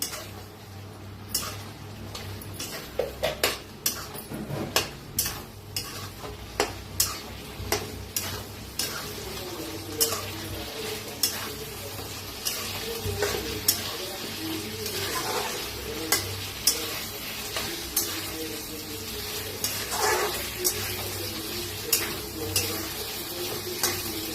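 Stuffed capsicum curry is stirred in a pan, a spoon scraping and clicking against the metal in irregular strokes over a low sizzle, close and continuous.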